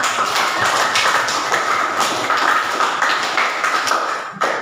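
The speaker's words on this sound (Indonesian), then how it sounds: "Tepuk tangan dulu." Classroom applause for a student who has just answered: a continuous patter of many hands clapping together, dense and steady throughout, fading slightly toward the end.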